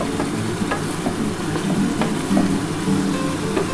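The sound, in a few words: chicken frying with tomato sauce and soy sauce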